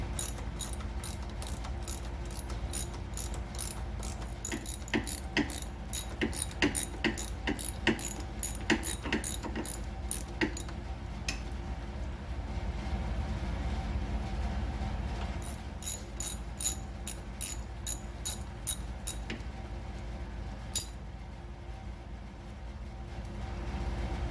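A ratchet wrench works loose the 11 mm U-bolts on the winch of a Kawasaki Brute Force 750 ATV, producing rapid bursts of close metallic clicking in several runs separated by pauses, no talk.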